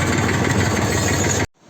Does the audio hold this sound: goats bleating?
no